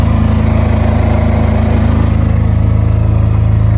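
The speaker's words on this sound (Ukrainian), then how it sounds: "Світло сьогодні було одну годину, тому переходжу на роботу від генератора." A rented portable power generator runs during a power cut while car body repair work is done on a Mazda. Its engine chugs loudly and steadily at close range with a fast, even pulse throughout, and no talking.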